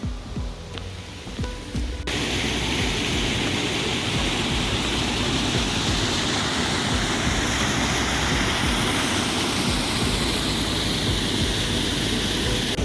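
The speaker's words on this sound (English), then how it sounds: "I hear the waterfall already" A waterfall along a short hiking loop of under a mile roars as a loud, steady rush of white noise that starts abruptly about two seconds in and holds constant to the end.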